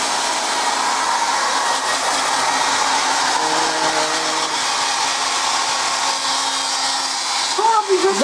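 A hair dryer blows with a steady, loud airy whir that holds constant for the whole stretch, with a faint tonal hum mid-way and a brief voice at the end.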